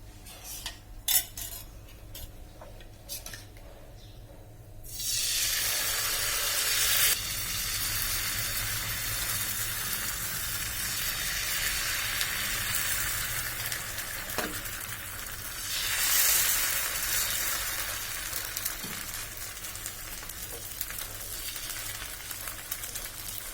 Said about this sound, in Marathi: असं सर्व साईडने मी बॅटर छान टाकून घेतलेलं आहे